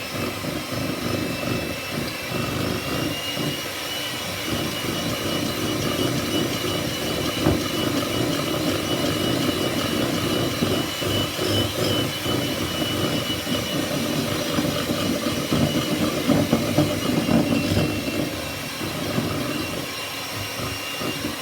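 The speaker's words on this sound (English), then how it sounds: "Now you want to be whisking this for 2 or 3 minutes until it comes quite light and fluffy" An electric mixer whisking sugar with egg yolks, running as a loud, continuous whirring drone throughout with a dense rattling texture and no talk.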